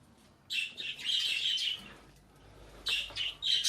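Small birds chirp and tweet inside a coop holding newly added breeding birds, with two clusters of bright, close, overlapping calls separated by a brief quieter gap.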